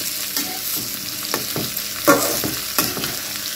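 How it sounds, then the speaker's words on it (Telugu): Bitter gourd pieces fry in a pan and get stirred with a flat spatula: a steady oily sizzle with intermittent scraping strokes and clinks of the spatula against the pan, close up and without talk. "ఒకసారి ముక్కలన్నీ కూడా బాగా కలిపేసుకోండి"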